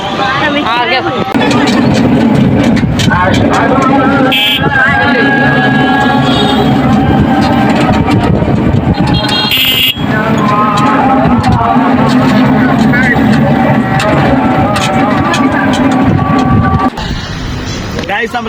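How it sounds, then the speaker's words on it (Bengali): An auto-rickshaw engine droning steadily and loudly while riding, with a continuous rumble and whine, brief bursts of passing noise, and voices talking over it. "আমরা এখন অটোতে উঠতে চলেছি"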